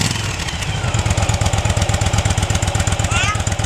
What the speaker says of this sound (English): this is what it sounds like with the stock exhaust.